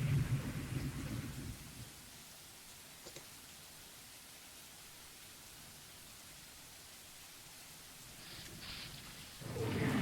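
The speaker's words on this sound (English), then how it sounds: "You hear the rain?" Steady rain hisses throughout, heavier and louder at the start and end and softer in the middle, with no one speaking.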